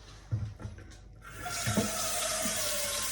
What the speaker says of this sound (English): So we're going to put some water in our saucepan.